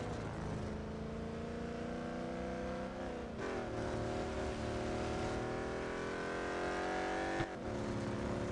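A Chevrolet Corvette Grand Sport engine in a racing video game at Suzuka drones loudly and steadily, its pitch climbing through gears with brief shift dips, a continuous synthetic engine roar with no voices.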